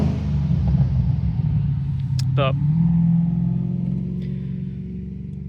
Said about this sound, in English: A lot of really loud cars here at the moment.